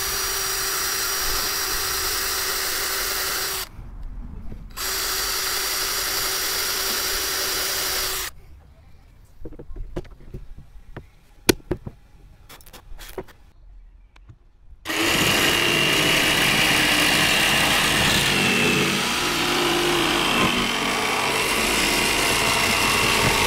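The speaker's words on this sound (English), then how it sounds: "We'll just drill a pilot hole and then we'll run round that mark with a jigsaw." A drill bores a pilot hole, then a jigsaw cuts around a marked line in furniture board for camper van bulkhead storage in a Mercedes Sprinter, loud bursts of buzzing cutting broken by quiet pauses and a long steady final cut.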